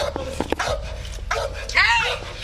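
A police K-9 dog barks and yips in short bursts amid shouting, close and loud, with a high whining yelp near the end.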